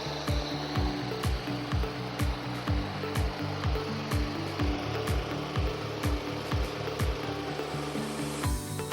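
A GT Shakti lawn mower runs steadily with a continuous engine drone and rapid repeated mechanical pulses, loud and close throughout, with no talking over it.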